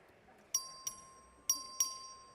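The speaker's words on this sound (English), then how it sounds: "The clerk will ring the bell." A bell in a House chamber is rung by the clerk for a record vote, four bright, ringing strikes in two uneven pairs, each decaying quickly over a quiet room hum.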